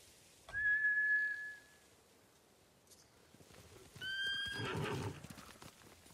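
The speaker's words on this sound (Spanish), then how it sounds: "Han espantado a los caballos. Son monturas samuráis, entrenadas para volver con sus amos." Spooked samurai horses in a PS5 action game, with a sharp whinny near the start and another neigh a few seconds later, over quiet hoof clatter.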